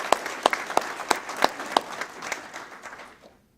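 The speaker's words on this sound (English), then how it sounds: "So let's have a round of applause for Susan." An audience at a mayor's employee recognition awards ceremony applauds, with sharp, regular claps standing out at first before the round of applause thins and fades out over a few seconds.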